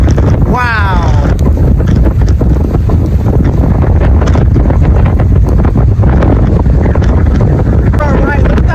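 Strong inflow wind near a tornado, roaring and buffeting the microphone in a loud, continuous rush, with voices calling out over it.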